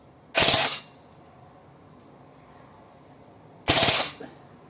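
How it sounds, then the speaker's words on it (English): Cyma electric airsoft M16 firing light BBs, two separate rapid bursts of mechanical clatter, loud and close, with a quiet pause between them. "I'll do a bit of left-hand, right-handed shooting"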